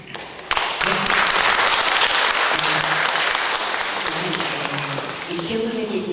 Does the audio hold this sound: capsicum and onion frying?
no